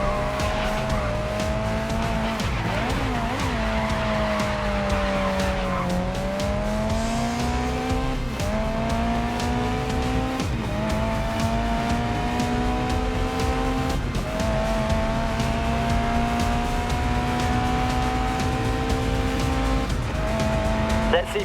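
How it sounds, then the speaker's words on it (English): A race car in Grid Legends slides through a corner on the handbrake with tires skidding, its engine droning loudly and continuously as it shifts pitch through the turns and accelerates away, and a squeal rises over the engine. "To try a corner with a touch of handbrake, I'd like to see you control the slide."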